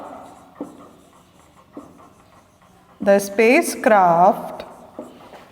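A classroom teacher writes an answer by hand on a board, the faint scratchy strokes sitting under a low background. A voice speaks over the second half, drowning out the writing.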